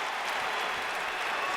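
Basketball arena crowd cheering and applauding during a Cleveland Cavaliers versus Boston Celtics NBA game, a steady dense roar of clapping and voices with no breaks.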